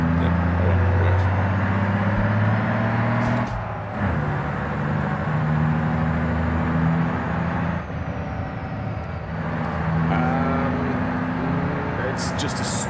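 A stock 2.5 litre manual car in BeamNG career mode drives along with a steady low engine drone that dips briefly around gear changes, held under near constant talk.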